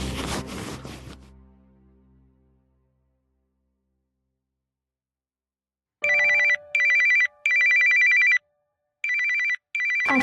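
A phone rings with an incoming call after a few seconds of silence: loud electronic ringtone bursts repeating in short sets, close and clear, following a fading rustle at the start, no voices.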